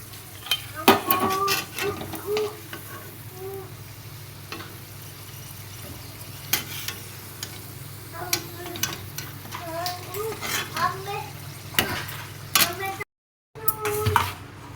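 Potatoes frying until brown, with a low steady sizzle under frequent clinks and scrapes of a utensil against the pan, plus some faint background voices.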